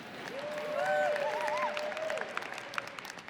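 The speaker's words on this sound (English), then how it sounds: "Keep that applause going." Applause from a keynote audience at a legal technology conference continues as a broad clapping wash, while a faint tonal melodic line, like stage music, rises and falls over it before the crowd noise tapers.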